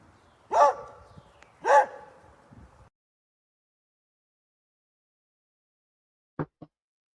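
A dog barking sound effect plays as a swoop transition: two loud, separate barks close together, then silence and a couple of short faint yips near the end.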